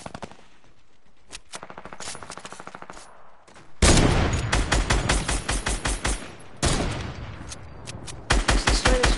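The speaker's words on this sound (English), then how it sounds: "Miniguns." Minigun fire in a video game: rapid, loud bursts of rattling gunfire, with quieter distant volleys at first and then heavy close sustained strings of shots, without talk.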